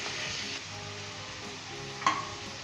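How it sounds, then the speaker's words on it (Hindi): Minced beef and onions fried in oil with ginger and garlic for a Pakistani bell-pepper keema, a continuous close sizzle with scraping stirs and a sharp clink near the end, no voices. "अब हम इसके अंदर कीमा शामिल करेंगे। मिक्स कर लें अच्छे तरीके के साथ।"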